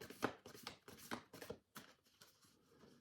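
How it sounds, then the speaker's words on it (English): A tarot card deck gets a quick shuffle, a run of crisp riffling bursts and papery slaps close by, fading into softer rustling at the end, with no voices. "I'm just going to give this deck one more little shuffle and see if there's one more card"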